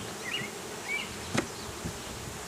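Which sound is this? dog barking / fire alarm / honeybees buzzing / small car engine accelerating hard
honeybees buzzing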